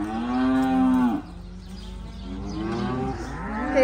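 Cows on a farm moo loudly and close by, one long drawn-out low call followed by a second rising moo at the end, with no voices.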